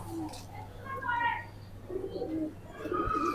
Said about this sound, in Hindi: माशाल्लाह अच्छी बगल का कबूतर है दोस्तों।